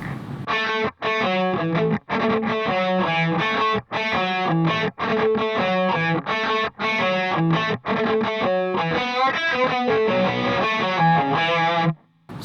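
Distorted electric guitar plays a song's riff in a steady, driving chugging rhythm, loud and continuous with a few brief gaps, no voices.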